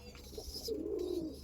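Andhra Kalsira Lalsira pigeons in a loft give a single low, rolling coo that swells briefly in the second half, quiet and close with no talking over it.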